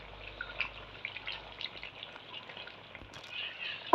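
Fried cauliflower tipped into cooked potatoes in a pan for an aloo gobi salan, producing a soft, steady sizzle and bubbling with faint stirring, fairly quiet and without talk.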